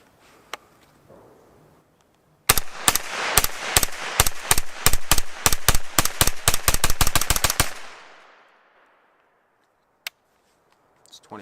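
A Taurus CT9 carbine fires a 20-round magazine in a rapid string of loud, sharp shots that speeds up toward the end, followed by a ringing echo, then quiet with one faint click.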